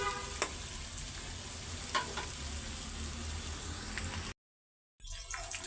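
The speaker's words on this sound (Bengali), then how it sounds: "তো 2টা ডিম আগে দিয়ে দিছি। ডিমটা আমি লাল লাল করে ভালো করে ভাইজা নিব আগে।" Two eggs frying in hot oil give a steady, close crackling sizzle with occasional sharper pops, broken by a brief silent gap before the sizzling resumes.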